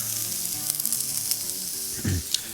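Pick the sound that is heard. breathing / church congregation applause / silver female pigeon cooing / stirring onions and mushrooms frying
stirring onions and mushrooms frying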